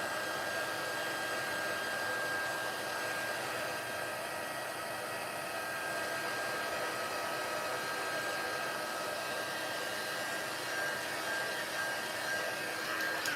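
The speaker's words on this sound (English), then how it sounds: "come back in with my heat tool, and we're just going to heat set this a little bit and get it nice and dry" A handheld heat tool blows hot air to dry wet stamped ink on a card, a continuous loud whooshing whine that holds steady from start to finish, close by and unbroken.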